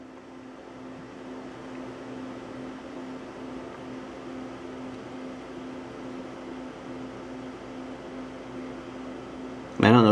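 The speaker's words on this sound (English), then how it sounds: "It's kind of loud, but I have the Corsair cooler in performance mode." Desktop PC with an Intel i7 4790S and a Corsair H80i GT liquid cooler in performance mode, fans producing a steady loud whooshing hum with a constant tonal drone, close and unchanging until a brief knock at the very end.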